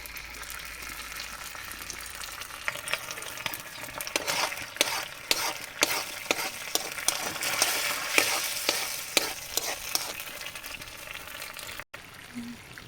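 Sardines frying in a pan with garlic and onion, a steady close sizzle broken by repeated sharp stirring scrapes, with faint talk in the background.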